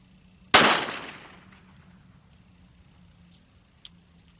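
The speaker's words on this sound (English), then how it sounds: "So I'm going to shoot these factory reloads that are this style and just see what kind of velocities I get out of them" A single sharp crack from a Cimarron Richards Conversion Type 2 .44 Special revolver firing a factory reload, with a quickly decaying echo, then near quiet apart from a faint tick.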